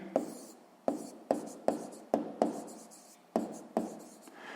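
A pen scratches out a math equation on paper in a run of about eight quick, close strokes, each starting sharply and trailing off, with short pauses between them.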